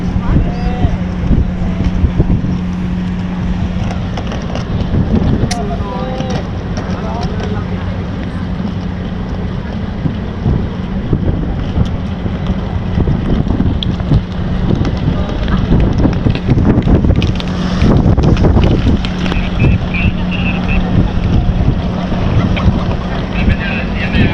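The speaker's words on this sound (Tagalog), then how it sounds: "Lakas pa rin talaga hangin." Strong wind buffets the open deck of a Starhorse Shipping passenger ship at sea, a steady loud rush of gusts over the microphone with a low engine hum beneath and scattered voices in the background.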